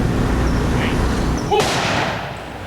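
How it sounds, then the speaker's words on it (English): A single sharp gun blast rings out partway through over steady outdoor noise during the gun salute at Richard Nixon's 1994 funeral on his library grounds, then fades into a lingering echo. "The guns sounded as Richard M. Nixon came home to his final resting place."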